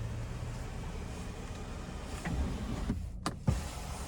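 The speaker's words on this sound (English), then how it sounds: "one touch for the tilt. And then you can hit it again for the slide." The power sunroof of a 2025 Nissan Murano Platinum tilts and then slides open with a soft, steady electric motor whir inside the cabin, followed by a couple of light clicks as it stops.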